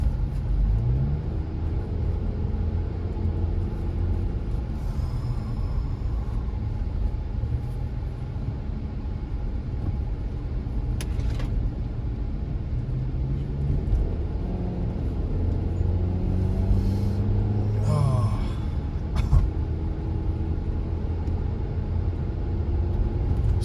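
A rental car's engine hums as a steady low rumble heard from inside the cabin while driving, constant throughout with a couple of faint clicks and small shifts in pitch, no talking.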